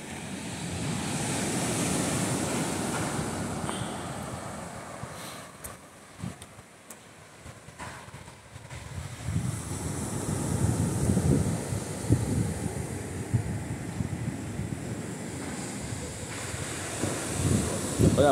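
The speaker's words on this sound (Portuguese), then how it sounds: "Olha a praia aí, ó." Ocean waves roll onto Praia da Cabeçuda beach in Itajaí, heard from a bike path with strong wind buffeting the microphone; a broad, continuous wash of surf swells and recedes, rising louder again toward the end.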